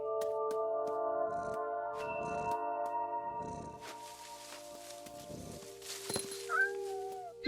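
Cat meows ring out over a steady synthetic score in the game What Remains of Edith Finch, with layered tones and soft rhythmic thumps, the meows rising near the end.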